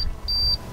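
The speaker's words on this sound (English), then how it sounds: "Doing all kinds of beeping noises." Two short high-pitched electronic warning beeps from a BMW E46's electronics, the second longer, sound clearly over a quiet low hum.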